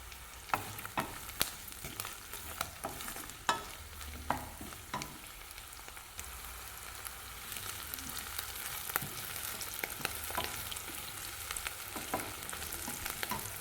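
Small onions sauté in a pan for mango pachadi, giving a steady close sizzle and crackle punctuated by sharp clicks of a spoon stirring against the pan, with no talking.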